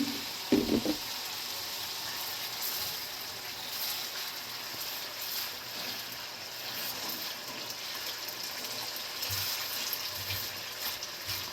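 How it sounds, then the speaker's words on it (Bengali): Ginger paste sizzles in hot oil in a pan for mutton tehari, a soft, steady frying hiss with faint stirring scrapes and a brief louder clatter near the start. "এখন আদা বাটা দিয়ে দিচ্ছি"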